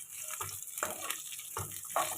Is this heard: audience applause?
no